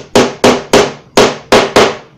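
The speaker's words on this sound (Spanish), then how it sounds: "utilizando tu martillo vas a delicadamente golpear hasta que sientas que tocamos el fondo" A hammer taps a wooden dowel into a melamine shelf cube, six sharp, close knocks at an even, steady pace, each ringing briefly before the next.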